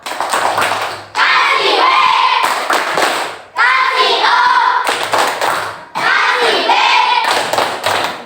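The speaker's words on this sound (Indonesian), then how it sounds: "Yuk kasih tepuk tangan dulu untuk Kupol" Elementary school classroom of children clapping hands in a rhythmic chant, loud close clapping in several bursts separated by short pauses, with young voices chanting along between and over the claps.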